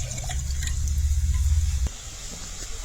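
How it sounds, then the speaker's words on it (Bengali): A bowl of milk pours into a pan for rasmalai, a steady low liquid gurgle lasting under two seconds before stopping, followed by faint kitchen clatter. "এখানে 1 বাটি দুধ দিলাম।"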